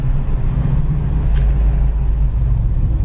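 A restored 1968 Ford Mustang rolls along and slows under braking, its engine giving a steady, loud low rumble heard from inside the car with no one speaking.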